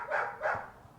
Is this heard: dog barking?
yes